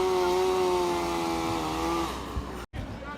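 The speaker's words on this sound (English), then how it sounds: "Tell him to stop that chainsaw now." A chainsaw cuts into a tree during a felling, a loud, steady, high whine close by that drops in pitch near the end and cuts off for a moment.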